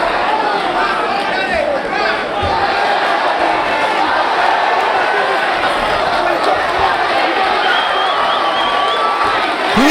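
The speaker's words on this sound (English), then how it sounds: "listen to the crowd now" A loud, continuous crowd roar and cheering fills an arena during an LFC 17 mixed martial arts bout as punches land, a dense wash of voices holding steady for the full stretch.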